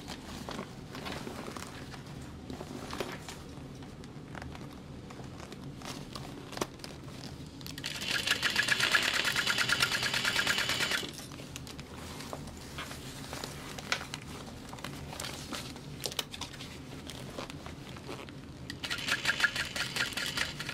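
Sewing machine top stitching a large bag, a soft mechanical run under rustling fabric with louder bursts of rapid stitching partway through and again near the end, close by, no talking.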